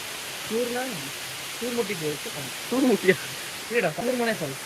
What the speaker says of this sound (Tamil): ஸோ ஃபால்ஸ் பார்த்தீங்கன்னா பயங்கர வருது